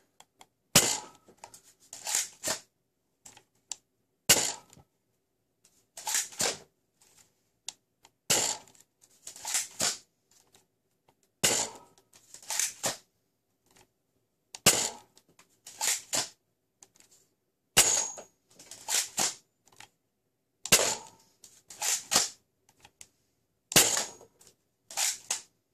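A ZWQ S200s Viper foam dart blaster firing Bamboo 2.0 darts, sharp close snapping shots in short clustered bursts with mechanical clacks of cycling between, repeated across about a dozen rounds with quiet gaps.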